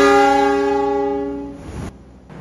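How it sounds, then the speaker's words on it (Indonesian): The Gajayana passenger train at Kebumen station sounds a loud sustained horn blast as it departs, the chord fading over about two seconds before rumbling rail noise takes over. "Kereta Gajayana kembali diberangkatkan dari stasiun Kebumen"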